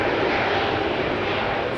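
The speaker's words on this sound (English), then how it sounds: "That's an E2 Embraer 195 with geared turbofan engines spooling up" Geared turbofan engines on an Embraer E195-E2 spool up at an airport on a rainy day. A loud, steady, broadband roar sounds close by, with no talking.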